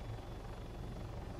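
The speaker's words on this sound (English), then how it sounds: "That's a helicopter." A helicopter's rotor in the video game Arma 3 chops steadily nearby, a low rhythmic thudding with constant engine hum underneath.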